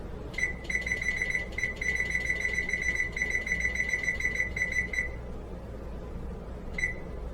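An oven timer beeps while a cake bakes in a home kitchen, giving a long run of rapid, evenly spaced electronic beeps that stops, then a single short beep returns after a pause, all over a steady low background hum.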